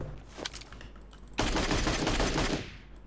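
Rapid automatic gunfire in the mobile battle royale game PUBG Mobile on the new Livik map, a short burst early then a loud sustained stream of shots filling the second half.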